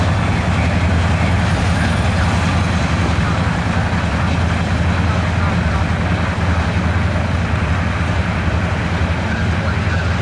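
A long freight train of roughly 100 cars rolls past in a steady, loud low rumble with continuous wheel and rail noise throughout, hauling an NS GP38-2 high hood locomotive in tow.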